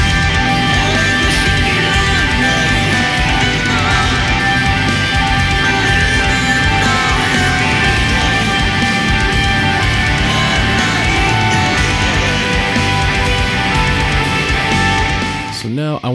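Heavy distorted electric guitar plays both harmony parts of a song together in a dense, loud wall of sound, continuous with no talk, stopping sharply at the end.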